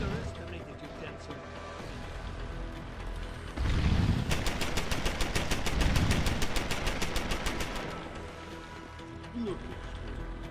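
Mounted turret firing in Deus Ex: Human Revolution Director's Cut: a steady, rapid stream of evenly spaced mechanical shots lasting several seconds, with heavy thuds at its start and in-game voices nearby.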